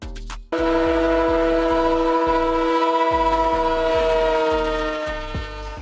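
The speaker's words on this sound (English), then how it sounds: "Tanker train, a type of freight train consisting of tank cars" A tanker freight train of tank cars sounds its horn in a loud, sustained blast that holds over the steady rhythmic clatter of wheels rolling on the rails.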